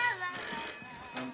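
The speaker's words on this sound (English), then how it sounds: "Don't you guys hear the telephone ringing out there?" Telephone ringing inside a house, a faint steady electronic trill heard in the distance for a second or so.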